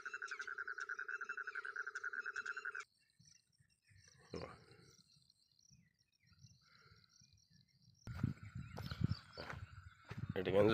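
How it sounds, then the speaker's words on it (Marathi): A frog near a pond gives a rapid, pulsing call that is loud and close for about three seconds and then stops abruptly. Quiet rustling follows, and later people talk over louder noise. "दमक्यात एक बेडूक आहे."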